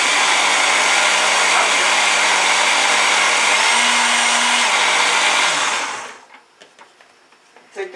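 A blender whirs loudly and steadily, mixing ice kenkey with milk and sugar, its motor pitch shifting briefly midway before cutting off near the end, followed by quiet clinks.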